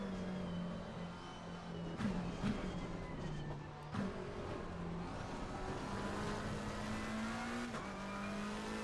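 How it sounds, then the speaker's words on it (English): A GT race car's engine drones steadily in Assetto Corsa Competizione, with faint tire scrubbing and squeal mixed in as the car turns through corners. The engine pitch dips and climbs briefly a few times before settling again. "scrubbing the tires because I can hear them"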